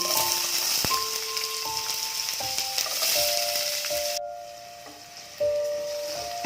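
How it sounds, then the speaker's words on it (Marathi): Chopped onions sautéing in hot oil with garlic in a pan, a loud close sizzle with spoon scrapes and clinks, briefly dropping quieter before surging back. "कांदा पहा परतून घेऊया।"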